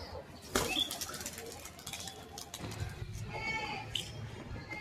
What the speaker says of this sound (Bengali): এই যে সবগুলো উড়িয়ে দিলাম, আরও আছে উড়াতে বাকি, সব উপর যেছে আস্তে আস্তে।